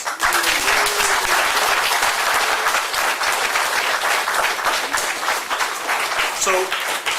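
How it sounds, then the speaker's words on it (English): A community audience at a townhall breaks into loud, sustained applause, a full crowd wash of clapping filling about seven seconds with a few voices mixed in. "as a community, can we give him a round of applause?"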